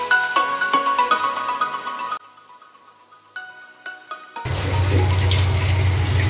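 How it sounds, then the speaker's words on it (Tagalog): A tap runs loudly and steadily as water fills a basin to bathe a pet cat, starting partway through after a stretch of tinkling melodic tones, with no talking. "Ito yung part na pinakamahirap magpaligo ng pusa kasi sila ay takot sa tubig."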